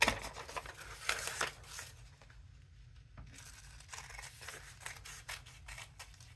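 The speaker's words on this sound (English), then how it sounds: "Gonna have to cut under here." Scissors snip through paper for a pen-box craft project, a run of crisp, close cuts with a quiet pause near the middle before the snipping resumes, with no talking.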